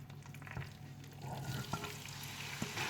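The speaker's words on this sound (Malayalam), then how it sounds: "ഓയിൽ ഒന്ന് ചൂടായി കഴിയുമ്പോഴത്തേക്ക് നമുക്കതിലേക്ക് ചിക്കൻ ചേർത്ത് കൊടുക്കാം." Chicken pieces added to hot oil sizzle steadily in a pan for a Kerala-style chicken chukka, with a few sharp clanks and stirring scrapes breaking through the constant frying hiss.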